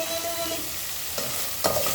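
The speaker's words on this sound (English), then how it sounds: "My omena is frying." Omena, small silver fish, frying in a pan, a loud steady sizzle and crackle close up, with a couple of scraping stirs of a spoon against the pan.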